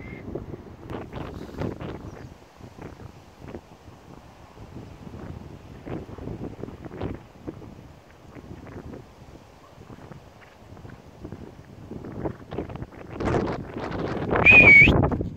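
Wind gusts buffet the microphone outdoors near horses, a continuous rough rumble and rustle that swells louder toward the end.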